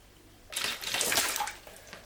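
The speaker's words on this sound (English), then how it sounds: "I'm really going to throw this water into the glass" Water thrown into a glass for splash photography makes a sudden close splash that rushes and spatters for about a second before trailing off into quiet drips.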